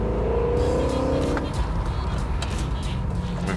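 BMW 1 Series swapped with an S65 V8 from an M3 pulls away with a deep engine note rumbling up close and loud, the pitch shifting as the car gets moving.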